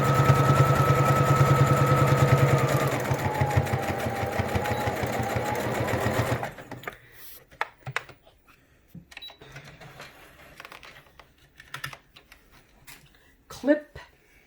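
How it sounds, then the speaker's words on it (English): A sewing machine stitches a fabric face mask in a fast, steady whir for about six seconds, slowing briefly for a back stitch before stopping; afterward, a voice talks over scattered small handling noises. "stitch to the end and back stitch"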